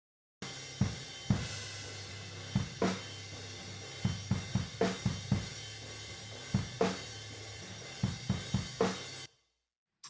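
Drum kit captured through regular room microphones in a studio: a loose groove of kick, snare and cymbal hits with clear transients over a sustained wash of cymbals, played alone for about nine seconds.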